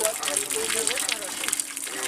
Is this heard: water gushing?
yes